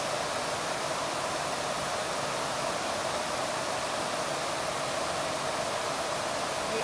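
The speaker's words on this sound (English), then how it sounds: "I just want you to hear the water pounding down on the rocks" A constant, dense roar of a waterfall at Hop Brook in Simsbury, Connecticut crashing down onto rocks, loud and unbroken throughout, with no voices.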